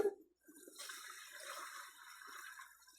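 Ginger tea pours through a strainer in a soft steady liquid stream, close and quiet, following a brief clink at the start.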